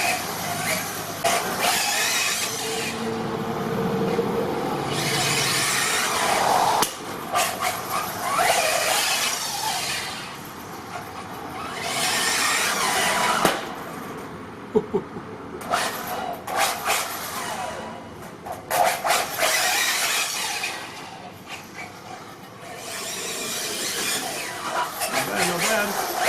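A ZD Racing 9020 V3 1/8-scale 4WD brushless RC buggy with a 120-amp system runs flat out, its high electric whine surging and fading in repeated passes close by and farther off, with short gaps between bursts.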